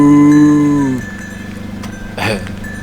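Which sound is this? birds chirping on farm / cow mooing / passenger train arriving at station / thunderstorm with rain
cow mooing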